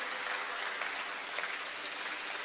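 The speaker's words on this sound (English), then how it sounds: "Everybody give him a round of applause" An audience at a live televised quiz event gives a brief round of applause for a correct answer. It is a steady, fairly distant wash of clapping with no talk over it.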